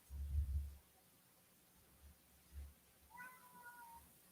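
A pet cat meows softly a couple of times, a faint drawn-out call near the end, over quiet low thumps and room hush.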